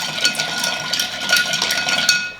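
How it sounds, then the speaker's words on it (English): Ice clinking and rattling as a Widow's Kiss cocktail is given a quick stir, close and bright, with rapid irregular taps of ice against glass and spoon. "Give it a quick stir."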